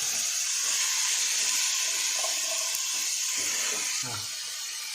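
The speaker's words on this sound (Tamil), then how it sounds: "இப்போ தக்காளி வெங்காயம் நல்லா வதங்கிட்டு இப்போ அந்த பீர்க்கங்காயை போடும்" Ridge gourd tipped into a pan of sautéed tomato and onion gives a steady, fairly loud hiss of steam and sizzle throughout, softening slightly near the end with a few faint clatters.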